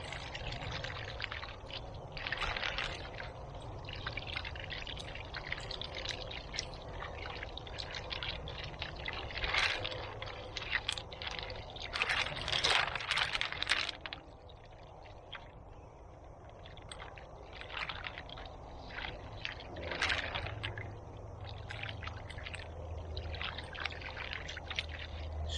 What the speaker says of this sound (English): I'm going to go ahead and hose this off.